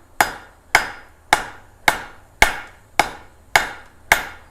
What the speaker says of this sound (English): I'm going to go to the horn of the anvil first to draw my tip, my 1/2 inch bar stock down.